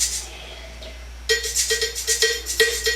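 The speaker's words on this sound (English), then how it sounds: "that right there, guys and girls, cowbell" Bright, clanking cowbell hits enter partway through a funk beat, repeating in a syncopated groove over faint hiss and a soft shaker-like texture.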